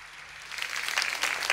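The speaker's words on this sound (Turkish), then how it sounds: "Alkışlarla yerine uğurluyoruz." Audience applause at a Turkish folk music show, a steady wash of clapping that builds slightly and stays fairly even throughout.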